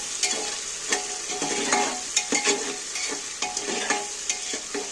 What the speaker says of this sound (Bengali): আদা টমেটো দিয়ে এবার একটু নাড়াচাড়া করতে থাকবে